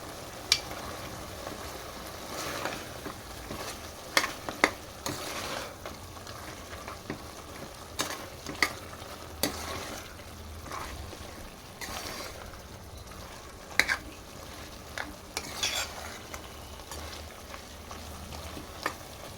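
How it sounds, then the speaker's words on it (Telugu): Masala and onion paste frying in a pan, a continuous sizzle punctuated by occasional stirring clacks and scrapes. "ఇప్పుడు మిక్సీ పట్టుకున్న మసాలాను వేసేసుకోవాలి ఆనియన్ పేస్ట్ని వేసేసుకోవాలి"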